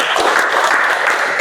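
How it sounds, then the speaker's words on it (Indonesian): Teachers applaud at a school event, a dense, steady burst of clapping that is loud and close throughout, with no talking over it. "Baik, tepuk tangan buat kita semuanya."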